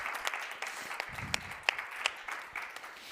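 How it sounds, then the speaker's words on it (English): Light applause from a conference audience at a local energy communities event, scattered claps fairly faint and thin, with a few sharper individual claps standing out. "great applause, please"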